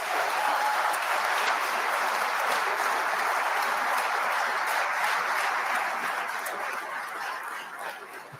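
Audience applause fills a hall during a New Jersey state budget address, sustained dense clapping that holds steady and tapers slightly near the end.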